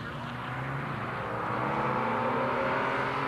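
1960s sports cars, among them an MGB Roadster, race at Silverstone, with a loud engine drone that rises and holds steady as the cars pass close by.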